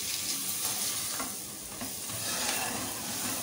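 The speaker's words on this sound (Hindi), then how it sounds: "बस मसाले को अच्छे तरीके से भून लिया है।" Spices roast in a pan for a Bohra-style dal, with a soft, continuous sizzle and frying crackle alongside light scraping strokes of a spoon stirring, close and fairly quiet with no talking.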